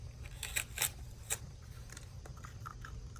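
Scissors snip at the plastic packaging of a spool of fishing line, three or four quick crisp cuts up close, followed by softer rustling and handling of the package.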